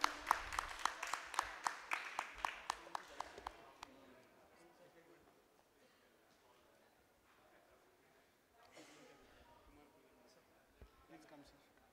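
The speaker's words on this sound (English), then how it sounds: "Can we all have a huge round of applause for him?" An audience at an HR panel discussion and award event claps at the start, a loud burst of rhythmic hand claps for about four seconds that then fades into quiet room noise and faint voices.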